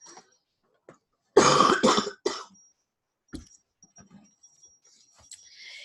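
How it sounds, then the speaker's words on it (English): One person coughs in a harsh, close burst of two or three hacks, followed by a throat clearing and quiet breathing. "Hang on, I have to cough."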